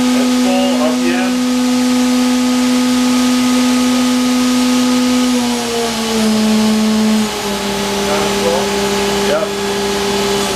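A 2015 Haas VF-4SS CNC mill with through-spindle coolant, its spindle running at a full 15,000 RPM, gives off a loud, steady tonal whine over machine hum. The pitch shifts down in steps partway through, and someone talks over it.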